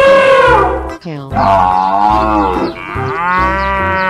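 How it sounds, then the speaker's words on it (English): A cow lets out a long, loud, drawn-out moo with a few pitch-shifting swells, close and clear, with no other sounds around it. "Cow."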